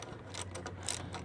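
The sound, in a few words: ratchet tightening a bolt on a GY6 scooter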